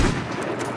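A single loud gunshot in the video game H1Z1 opens the brief moment, followed by a short rumbling decay.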